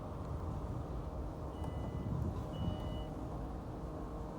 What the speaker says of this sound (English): car also has an electric tailgate.